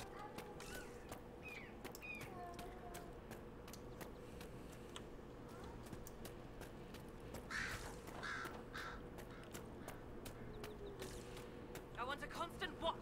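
Crows caw repeatedly across a quiet game landscape, scattered harsh calls at moderate distance over a low ambient drone, with brief speech in the mix.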